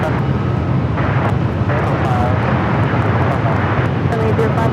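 An airliner rolls down runway 25 left for takeoff at Los Angeles International Airport, heard as a steady, loud, broadband engine roar that holds constant throughout while tower radio chatter plays over it.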